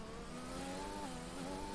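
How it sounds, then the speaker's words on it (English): Mercedes race car engine in a racing video game, a steady sustained mid-pitched drone with rising and falling revs over a continuous loud hum, no voices. "guy is destroying the engine of Mercedes"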